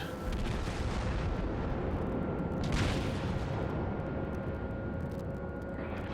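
A naval gun salvo in World of Warships: a deep booming roar of heavy guns that swells and rumbles, with a louder burst in the middle and continuous low thunder, no talk.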